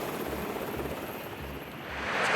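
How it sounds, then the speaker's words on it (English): An NRMA Care Flight rescue helicopter on a training exercise over Bondi surf, its rotor thumping in a steady beat from a distance, growing louder toward the end. "Lifeguards and the NRMA Care Flight chopper used the opportunity to conduct a training exercise."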